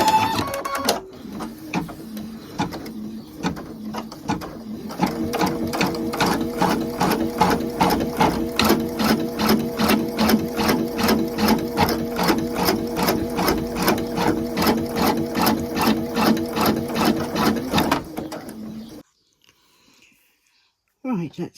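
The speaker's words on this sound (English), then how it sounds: "I've got a basting stitch around it, so it'll stitch out the basting stitch first." An embroidery machine stitches out a basting stitch around a design in a magnetic hoop, a fast steady rhythmic needle clatter running close and loud for about eighteen seconds before stopping, then a brief faint sound.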